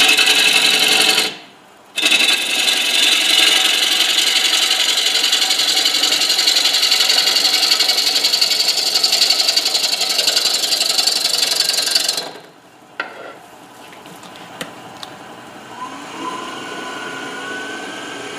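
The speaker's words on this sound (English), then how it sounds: "Right now we're going to go around 1000 RPM because it's a small piece, and just get the wood off." Small wood piece spinning on a lathe at about 1000 RPM while gouges cut it, a loud continuous rasping scrape that stops briefly near the start, runs steadily, then cuts off, leaving faint workshop clicks and a hum.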